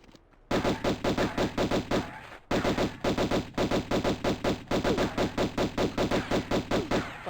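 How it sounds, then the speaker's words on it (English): Rapid, evenly spaced gunshots ring out from a gun in Tomb Raider Remastered. The loud, close bursts are broken by short pauses, with each shot a sharp, distinct report. "I'm gonna shoot you with my gun."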